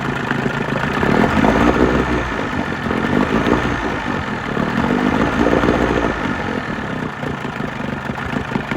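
Old Johnson outboard motor idling steadily after repair, a continuous mid-range engine drone with a fairly even rumble and no talk throughout.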